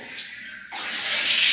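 A faucet in a newly finished house lets water gush out at strong pressure, starting with a short trickle before the flow opens fully into a loud, steady hiss that swells toward the end.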